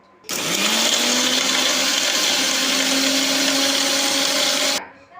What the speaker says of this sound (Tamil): இப்போ நம்ம மிக்சியில் வச்சு அரைச்சிடலாம்.